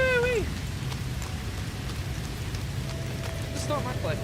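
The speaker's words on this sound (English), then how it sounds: "Oh no, it's raining." Rain falls during a storm in a space trading video game, a steady, moderately loud hiss of drops with faint chirpy tonal game sounds at the start and end, no voices heard.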